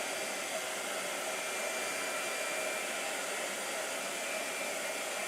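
A blow dryer runs steadily and loudly throughout, a constant close whooshing roar with no pauses or talking.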